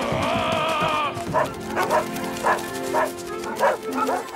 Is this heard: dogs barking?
yes